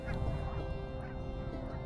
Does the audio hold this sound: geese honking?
yes